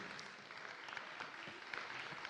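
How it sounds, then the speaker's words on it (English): An audience at a high school fall athletics awards ceremony applauds with a steady, dense patter of many hands, faint and somewhat distant, for a couple of seconds. "how about a round of applause for the fact that you guys made it through?"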